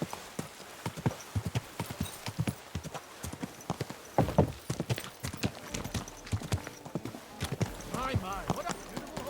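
Horse hooves clip-clopping in the Kingdom Come Deliverance II game, a brisk irregular run of sharp close hoof strikes with a brief whinny-like sound near the end, while people speak over it.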